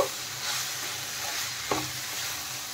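Boiled sweet corn being stirred with salt in a pan: a short stretch of continuous scraping and rustling, close and moderately loud, with one sharper knock of the spoon partway through.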